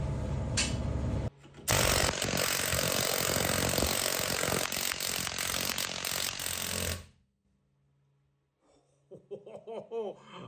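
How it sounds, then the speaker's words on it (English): Loud, continuous mechanical hammering on metal as a planishing hammer smooths a dent in sheet metal, a rapid buzzing rattle that runs for several seconds and then stops, followed by a short laugh. "So we'll see if our hammer straightens that out."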